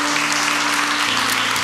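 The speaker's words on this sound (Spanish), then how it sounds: "dale un fuerte aplauso al Rey de Reyes y Señor de Señores" A church congregation breaks into brief, loud, dense applause, a steady wash of clapping over a low sustained hum.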